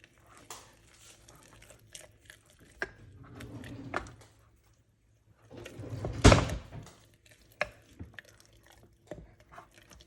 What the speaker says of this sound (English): So now take the muddler, and we're going to stir it up.